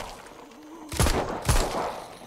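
Two sharp gunshot bursts in the video game Arizona Sunshine, loud and close, spaced about half a second apart over a low background hum.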